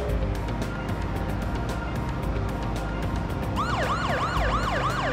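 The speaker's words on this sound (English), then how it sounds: "Yay, sirens!" Police sirens in the Parasite Eve video game begin wailing about three seconds in, rising and falling in a steady cycle over a dense, loud game soundtrack.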